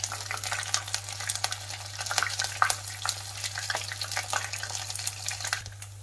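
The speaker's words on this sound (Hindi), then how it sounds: "तो यहाँ पर मैंने सारे पनीर क्यूब्स को डाल दिया है और फ्लेम मीडियम ही रखी है।" Paneer cubes frying in a pan over a medium flame, a steady close crackling sizzle with faint stirring clicks and a constant low hum underneath, no voices.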